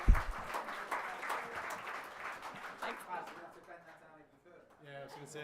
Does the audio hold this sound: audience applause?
yes